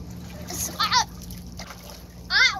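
Water splashing and sloshing in an overflowing tub or pool as a child plays, with short bursts of splatter spaced apart and a voice talking between them.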